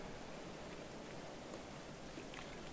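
Steady rain falls in the medieval colony-building game Going Medieval, a soft, even wash of patter with a few faint drops standing out, quiet and continuous with no voices.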